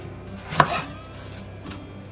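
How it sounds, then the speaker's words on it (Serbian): A knife chops fresh tomatoes on a cutting board, trimming away the damaged parts: one sharp, close cut stands out, followed by a couple of fainter taps. "Za početak ću da naseckam ovaj paradajz."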